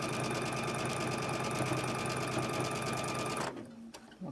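Sewing machine stitching thread across a fabric bowl cozy, a fast, even mechanical whir and needle chatter running loud and close for about three and a half seconds before stopping abruptly, followed by a few faint clicks.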